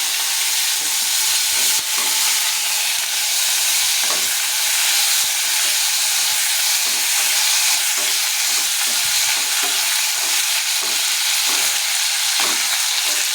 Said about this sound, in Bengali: এখন আমি পেঁয়াজটা দিয়ে দিচ্ছি।